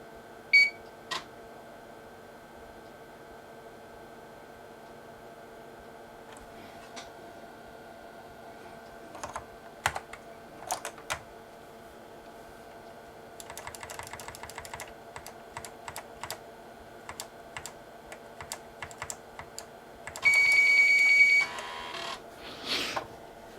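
Keys clack on the keyboard of a Dell 486P computer in sparse bursts and rapid flurries over a constant machine hum, with a sustained electronic beep near the end.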